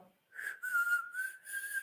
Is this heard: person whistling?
yes